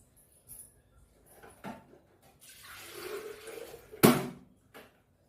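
Water splashes and pours into a vessel for boiling in short bursts, with a louder splash near the end and quiet background noise between.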